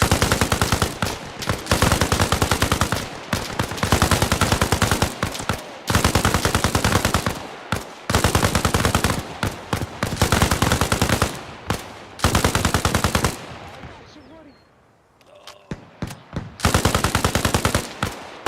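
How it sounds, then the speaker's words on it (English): Repeated bursts of automatic rifle fire in Arma Reforger, loud and close, coming in short rhythmic volleys separated by brief pauses, with a quieter lull near the end before firing resumes. "Short controlled bursts. Conserve that ammo a little bit."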